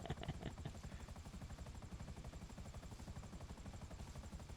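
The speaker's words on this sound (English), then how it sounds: "The Terminator knows how to park a chopper." Helicopter in Grand Theft Auto V, parked with its rotor still turning: a steady, loud, rhythmic rotor thump with engine whine that fills the whole stretch without a break.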